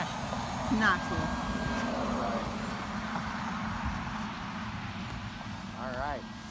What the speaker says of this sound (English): this airplane is just a little flying wing. It's got a nice little push across that makes this cool sound.